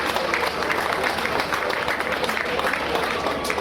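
Applause breaks out for a prize winner at a Bélé kakado event in Capesterre, Guadeloupe, a steady dense wash of clapping from a crowd that keeps up evenly throughout without pause.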